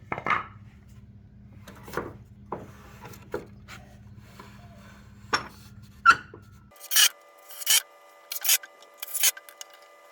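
A cutting jig slides forward during soffit framing for a sunroom addition, giving scattered sharp scrapes and clicks over a low hum, then a series of short, bright cutting rasps, close and alone.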